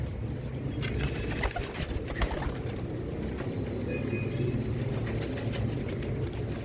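Continuous low rumble from a steady engine, with soft pigeon cooing and wing flutter faintly mixed in; no one speaks.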